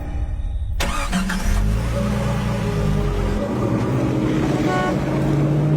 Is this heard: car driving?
yes